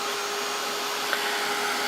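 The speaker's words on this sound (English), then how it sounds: "I'm gonna grab my dryer." A Ranger Heat It craft heat tool blows with a continuous, even whooshing hiss, close and steady throughout with no talking.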